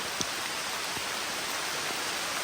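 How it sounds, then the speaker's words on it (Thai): Steady, soft broadband wash of heavy rain falling in a forest, continuous and even throughout with a few faint drop-like ticks and no voices. "ทุกคนนะตอนนี้ฝนมันตกหมดแล้ว"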